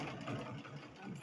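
A sewing machine stitching satin onto a sleeve runs with a steady, muffled whir, continuous and fairly faint throughout.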